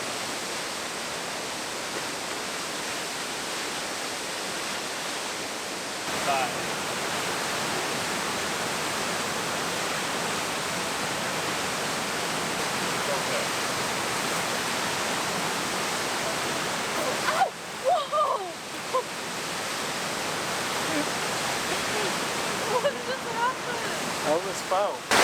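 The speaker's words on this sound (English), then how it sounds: "it literally took us 2 minutes to get to this beautiful waterfall" Steady rushing roar of a waterfall on New Zealand's South Island West Coast, a broad even hiss that persists throughout with only slight swells in intensity.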